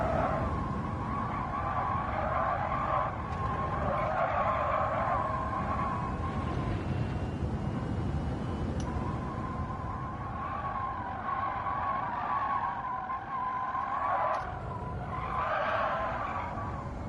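Tires of a GR1 race car squealing continuously in Gran Turismo 7 at Spa, a wavering high screech that rises and falls over a steady engine hum, loud and ongoing throughout with no talking.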